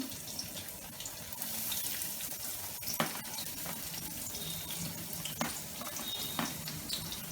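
Chopped onion sizzles in a pan with green chillies, cooking for carrot Maggi noodles. A soft, steady hiss runs throughout, broken by a few light clicks of utensils.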